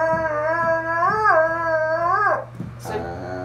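A Redbone Coonhound howls up close in a long, wavering cry that rises and falls, ending with a short yip.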